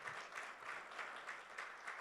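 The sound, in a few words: audience applause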